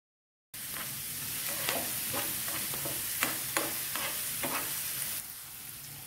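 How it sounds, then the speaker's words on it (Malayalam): Onion, green chilli, cumin and curry leaves sautéed in a pan for Kerala paal kappa, a soft continuous sizzle broken by a series of distinct spoon-stirring scrapes in an uneven rhythm, close and fairly quiet. "നന്നായിട്ടൊന്ന് ഇളക്കി മൂപ്പിച്ചെടുക്കാം"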